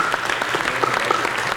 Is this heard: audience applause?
yes